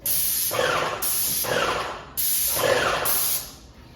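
Three bursts of an airless paint sprayer hissing along a wall near the baseboard, each about a second long with short pauses between, loud and close, no talking.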